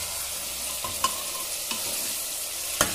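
Mutton sizzles in a pan while a spoon stirs it steadily. A few sharp metallic scrapes and taps sound up close over the continuous frying hiss, with no voices.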